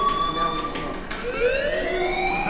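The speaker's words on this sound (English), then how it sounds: "Hey, do you hear that fire alarm?" A wailing electronic fire alarm sounds in the video game Life Is Strange, its tones sweeping up and down steadily at moderate distance, with a voice speaking over it.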